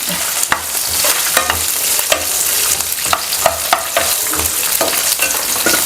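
Ginger, garlic, green chili, onion and tomato sauté in a home kitchen pan, a continuous sizzle broken by sharp scraping stirs at irregular intervals, close and fairly loud with no voices.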